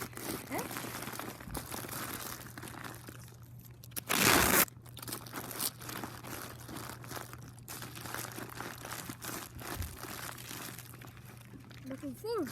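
Masking tape crinkles and crunches as it is peeled off and balled up by hand, a burst of loud close crumpling mid-way amid ongoing rustling, with people talking throughout.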